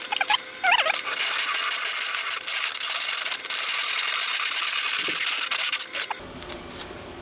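A handsaw cutting insulating firebrick for a kiln modification, a continuous close gritty rasp of back-and-forth strokes that stops abruptly near the end.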